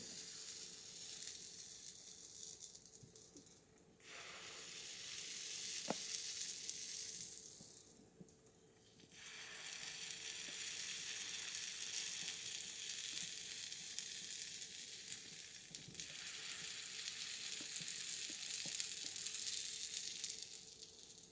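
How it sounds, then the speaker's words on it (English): Food sizzles steadily in a frying pan, a bright crackling hiss that dips briefly twice, with occasional small pops and clinks. "And you hear the sizzle? That's a good sounding sizzle"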